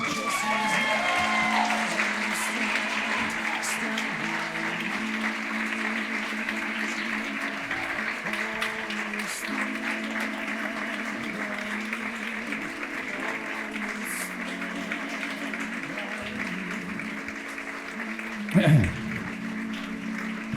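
Sustained audience applause fills a town hall at a wake, a dense steady wash of clapping from a large crowd that carries on unbroken for about twenty seconds, with a brief louder bump near the end.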